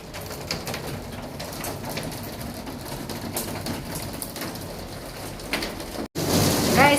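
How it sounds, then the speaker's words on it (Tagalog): Steady rain falls in Abu Dhabi, a continuous hiss of drops on surfaces with pigeons or doves cooing nearby, the downpour growing heavier toward the end. "So, umuulan nga talaga."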